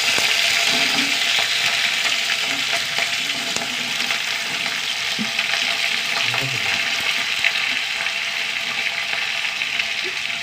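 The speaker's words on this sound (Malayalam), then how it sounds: "ഇതെല്ലാം കൂടിയിട്ട് വഴറ്റണം കേട്ടോ" Onion, tomato, potato and okra sizzle steadily in a hot pan as they are sautéed, a continuous close frying hiss with occasional stirring scrapes and no talking.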